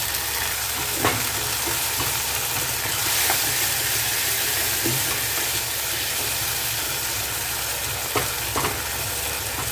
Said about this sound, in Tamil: தக்காளியோட கொஞ்சம் உப்பு சேர்த்துக்கலாம் தக்காளியை நல்லா மசிஞ்சு வெந்து வரட்டோங்க